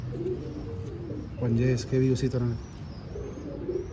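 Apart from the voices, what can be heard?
pigeons cooing, Dubai pigeons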